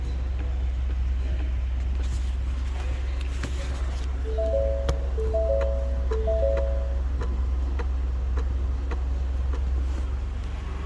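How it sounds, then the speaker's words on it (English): Repeated soft ticking from the shift interlock in the center console of a 2018 Ford F150, a steady clock-like rhythm over the low hum of the running engine, with faint chime-like tones midway. "That's the shift interlock actually doing what it's supposed to do now."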